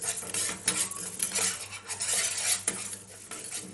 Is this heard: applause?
no